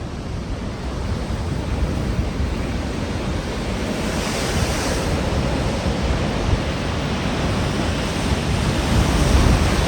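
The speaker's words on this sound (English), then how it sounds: "Look at those waves." Large ocean waves crash and roar continuously on the Oregon coast during a king tide, a dense, loud surf wash swelling slightly toward the end, with wind rumbling across the microphone.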